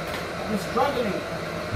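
A heat gun blows in a continuous close roar as it warms 3M vinyl wrap on the lip of an Acura TL, and a voice murmurs faintly under the steady airflow.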